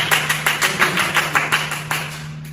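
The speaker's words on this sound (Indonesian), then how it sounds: "tepuk tangan untuk kelompok" A classroom of students clapping together for a group during a microteaching lesson, a quick steady run of about a dozen claps, close and fairly loud, tapering off at the end.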